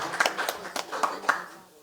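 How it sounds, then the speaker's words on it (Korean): Worshippers at a Buddhist temple dharma service clap together in a short, loose burst of hand claps, moderately close, tapering off quickly into quiet. "박수 한번 크게 칩시다"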